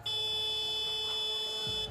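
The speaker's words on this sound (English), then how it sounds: "manages to get it off before the buzzer" A game clock buzzer sounds at a women's 3x3 basketball game in an arena, one sustained loud electronic tone holding for nearly two seconds over faint crowd noise.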